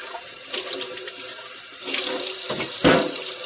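Tap water runs steadily into a sink as it is rinsed out, a continuous close splashing hiss with a brief louder splash near the end and no voices.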